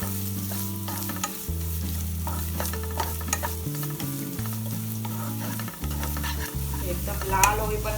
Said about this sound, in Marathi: इथे मी नारळ टाकते, तो आता आपण परतून घेऊया.